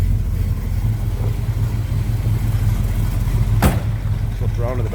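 A 1976 Pontiac Firebird Trans Am with a mild cam idles at the rear with a deep, throaty, steady rumble, the lumpy low thrum continuing evenly, with a brief sharp knock near the end.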